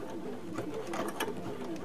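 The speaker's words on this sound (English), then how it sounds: "Note that the machine's going to sound a little bit different than a sewing machine because there's a lot more things going on with this." A Baby Lock sashiko machine stitches in a fast, steady mechanical patter of repeated clicks and whirring close by, with no voice over it.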